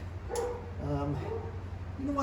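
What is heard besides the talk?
dogs fighting and barking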